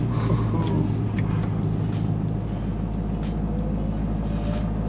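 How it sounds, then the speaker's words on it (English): A Cummins diesel truck engine runs with a steady low drone at moderate distance, holding an even level with faint clicks and rattles over the rumble. "Sounds like a man's truck."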